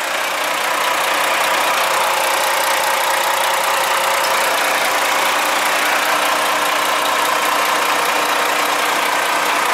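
A truck's D11 diesel engine idles close by, a continuous low rumble with a faint knocking rhythm that holds evenly throughout, with no voices.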